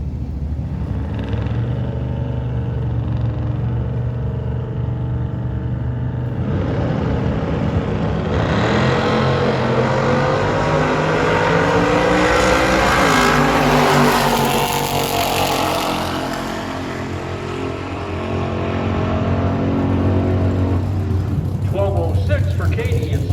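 Drag race between a Chevrolet-powered Mustang and a 1968 Ford Fairlane, loud engines roaring and revving hard as the cars launch and pull away, with an announcer talking over the rumble.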